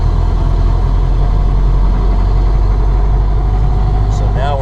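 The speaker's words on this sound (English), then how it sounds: "take us from a start, get her up into second gear, and go down to third gear" A 1931 Ford Model A engine drones loud and steady as the car pulls away from a start and shifts up through the gears, close and continuous with a brief high squeal near the end.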